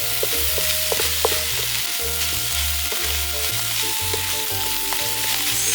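Ginger and rice sizzle and crackle in a hot frying pan as they are tossed together, a dense, steady frying hiss with intermittent stirring knocks, close and alone.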